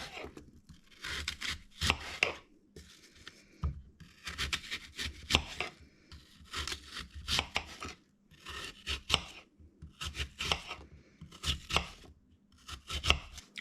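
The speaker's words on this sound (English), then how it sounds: "clank, clank of the chopping knife" A knife chops an apple into small pieces on a cutting board for no-sugar baking, making bursts of sharp, rapid knocks separated by short pauses, close and clear.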